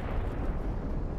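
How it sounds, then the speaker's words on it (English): A Mjolnir strike in the roguelike deckbuilding game Earthless lands as a low, rumbling explosion, a short dense boom heard alone at moderate volume. "Slag it with a Mjolnir strike."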